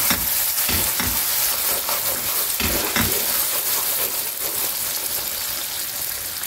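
Butter and other dessert ingredients sizzle steadily in a pan while a spoon stirs them, with soft rhythmic scraping strokes over the constant frying hiss.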